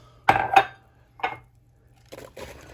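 Diced apples dropped into a cooking pot, giving a couple of soft clattering thumps close up, then a quieter scrape and shuffle as the pieces settle.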